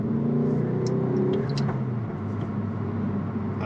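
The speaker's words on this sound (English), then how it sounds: "It's them pops and bangs are unbelievable." A Ford Focus ST Mk4 tuned with a Revo Stage 1 remap rumbles loudly, its exhaust crackling with a few sharp pops and bangs over the engine drone before it settles to a lower roar.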